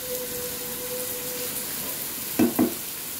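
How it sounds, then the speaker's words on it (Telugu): Vegetables cook in a pan over a medium flame with a steady soft sizzle, broken near the end by two quick stirring clinks close by. "ఒకసారి బాగా కలుపుకొని మీడియం ఫ్లేమ్లో మగ్గించుకుందాం వీటిని"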